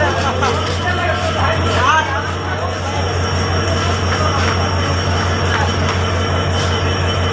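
The Nilsagar Express from Dhaka to Chilahati rumbles steadily at a station as it departs, with a low continuous drone, occasional squeals and clanks, and people talking nearby throughout.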